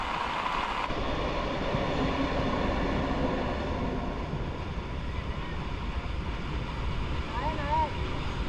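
A train rumbles steadily across a Konkan Railway bridge over a river with a continuous heavy roar and rattle throughout, close and loud, with faint voices in the background.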